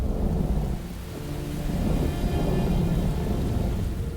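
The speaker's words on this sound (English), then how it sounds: "The rain pours down, yet Heinuabek remains calm" Heavy rain pours steadily over open herding land, a dense continuous roar with low rumbling thunder rolling underneath throughout, no voices.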